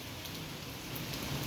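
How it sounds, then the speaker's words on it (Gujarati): Heavy monsoon rain pours steadily onto a village yard in Chhara, a dense, even hiss of countless drops that stays constant throughout. "અત્યારે જોરદાર વરસાદ ચાલુ છે."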